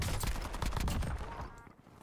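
Rapid bursts of gunfire in the Warzone battle royale video game, loud and close, a dense volley of shots in the first second and a half that then cuts off into near quiet.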